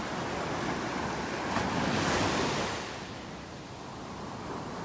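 Ocean waves break on the shore of a beach in North Naples, Florida, on a fairly rough morning. A broad, continuous surf roar swells and eases, mixed with wind buffeting the microphone.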